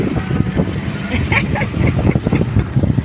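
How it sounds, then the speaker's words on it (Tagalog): Wind buffets the microphone in loud rumbling gusts on a footbridge, a continuous roaring blow with some faint sounds mixed in. "mahangin po dito ngayon mahangin po"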